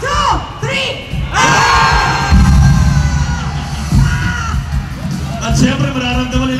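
A large crowd at a political rally roars and shouts together, loud and sustained with whoops and cheers swelling in waves, a voice over a microphone briefly heard amid the noise.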